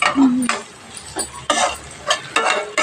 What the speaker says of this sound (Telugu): అంతా మంచిగా మిక్స్ చేసుకోవాలి.